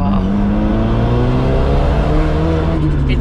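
A Pandem/Greddy widebody Mazda FC RX-7 with a rotary engine, holding a loud, sustained rev with a steady buzzing drone that sags slightly in pitch over a few seconds, close by and without talk.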